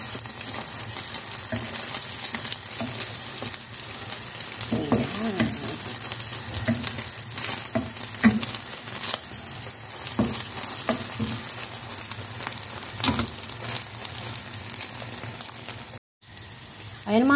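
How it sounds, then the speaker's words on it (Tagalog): An egg frying in cooking oil in a pan, a continuous close sizzle with spattering crackles and occasional scraping, loud and steady, briefly cutting out near the end. "Lagyan muna natin siya ng mantika. Ayan, lutuin muna natin yung itlog."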